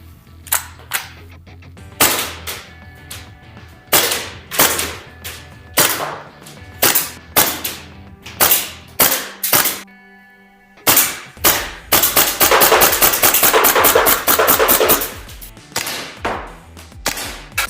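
Vorsk VMP2 MD gas DMR airsoft rifle fired at a range: sharp, loud individual shots in an irregular semi-auto rhythm, then a fast continuous burst of rapid shots near the end, with no talking.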